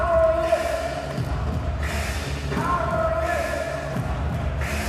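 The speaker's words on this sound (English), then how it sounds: "Crowd getting behind Cui Zhe" Arena crowd at a Paralympic powerlifting competition cheers and roars steadily for Chinese lifter Cui Zhe, a continuous wash of voices with swelling bursts, while a commentator talks over it.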